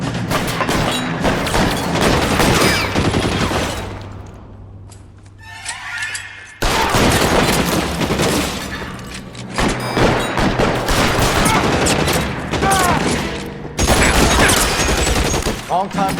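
Heavy gunfire from the video game L.A. Noire, loud repeated volleys and bursts of shots in clusters, with a brief lull in the middle before the firing resumes at full intensity.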